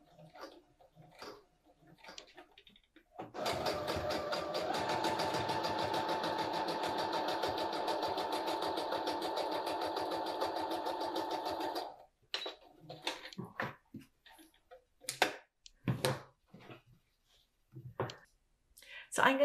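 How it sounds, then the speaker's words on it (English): Sewing machine running steadily for about nine seconds while stitching fabric pockets from top to bottom on a tool caddy, with brief taps and handling noises before and after. "I'm going to start sewing in the center here at the top of my pocket and sew down towards the bottom"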